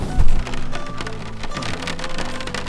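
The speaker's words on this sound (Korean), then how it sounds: "빗소리 들리시죠?" Heavy rain pours down onto a car during a fishing trip on a beach in Wando, heard from inside the vehicle as a dense, steady drumming and patter on the roof and body, loud and continuous.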